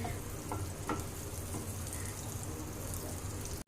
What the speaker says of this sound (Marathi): इथे आता आपण बटर टाकून घेतलेला आहे। त्यानंतर याच्यामध्येच आपण पनीर फ्राय करून घेणार आहोत।